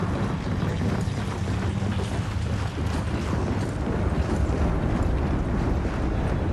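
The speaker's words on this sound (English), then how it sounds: "That wind flare's still going strong." Storm wind from a windflare in Gears of War 4 roars steadily and loudly, a dense low rushing howl with gusty buffeting that never lets up, heard alone without voices.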